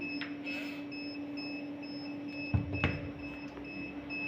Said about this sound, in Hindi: ये देखें, ये अलार्म करने लग पड़ा है